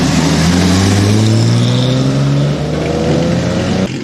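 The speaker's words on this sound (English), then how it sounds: "by a beautiful sounding 1958 300 SL Roadster" A 1958 Mercedes-Benz 300 SL Roadster passes close by with a loud engine note whose pitch climbs steadily as it accelerates, then eases slightly near the end.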